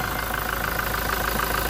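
A Toyota Hilux FX 2.4 engine idles steadily under an open hood, a continuous close mechanical hum with a faint knocking texture and no voices.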